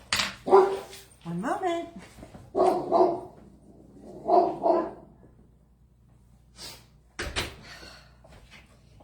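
An indoor dog barks at the neighbor dogs, loud and close, in several short bursts, often in quick pairs, over about five seconds. A voice says a few words, and a thud like a door or cupboard follows near the end.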